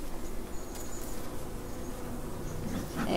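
Honeybees buzz steadily at a calm hive outdoors, a continuous soft drone of many insects close by with faint background noise and no talk.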